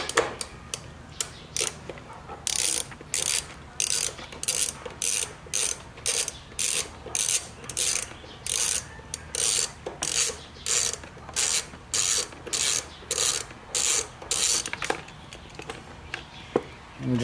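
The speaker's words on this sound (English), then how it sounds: "I'm just going to pop these nuts off." Ratchet wrench with a 10 mm socket backing nuts off on a C5 Corvette, a rapid series of sharp clicking bursts repeating steadily at close range with short pauses between strokes.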